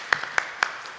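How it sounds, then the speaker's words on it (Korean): A few sharp hand claps from a church congregation during a Sunday worship service, three distinct, evenly spaced claps within a second over quiet room tone. "다시 오실 영광에 함께 영광의 박수 올려드립니다."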